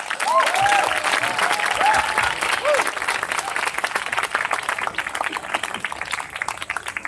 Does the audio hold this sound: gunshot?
no